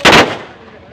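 One loud, close gunshot cracks out after a command to fire and then fades into a short decaying echo.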